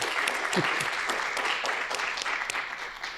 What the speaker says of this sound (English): maybe we can give them a round of applause while we're here in person